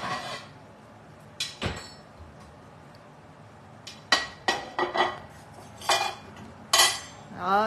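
A knife and dishes clink and clatter in a kitchen: scattered sharp metallic and ceramic knocks of varying loudness over a quiet background, with no talking.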